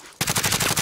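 A rapid burst of automatic gunfire in the Warzone video game, loud and close, a tight stream of sharp shots starting abruptly and running without pause.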